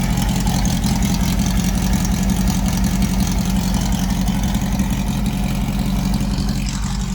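A car engine idles steadily at close range, a continuous low rumble with even loudness and no revving or voices.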